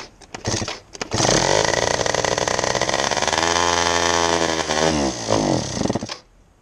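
A scooter engine with a carburettor jet fault runs loud and close for about five seconds, a rough buzzing drone that wavers in pitch, with short sputtering bursts before and after.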